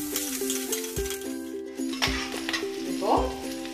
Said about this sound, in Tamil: சீரகம் பொரிஞ்சிருச்சு. பூண்டும் பச்சை மிளகாய் போடுறோம்.